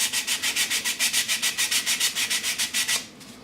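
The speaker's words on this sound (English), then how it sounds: "So I'm going to take a few seconds and sand this down." A carbon fibre frame for a 250-size mini quadcopter is sanded by hand in a fast, steady back-and-forth rhythm of about fifteen close, harsh rasping strokes that stop abruptly near the end.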